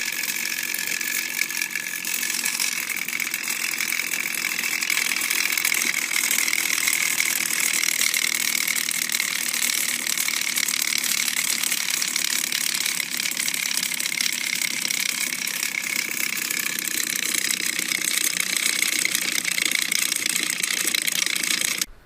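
Unbalanced rotor weighted with a piece of duct tape, its shaft jumping in the bearing seat, giving a continuous rattling mechanical whir with a steady high-pitched tone, even and unbroken throughout.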